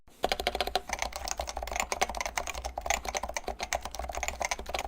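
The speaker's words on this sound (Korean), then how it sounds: "먼저 순정 상태의 키보드를 쳐볼게요." Typing on a stock, untuned Topre FC660C electrocapacitive keyboard, a steady rapid run of close, clacky keystrokes with a slight rattle, heard alone.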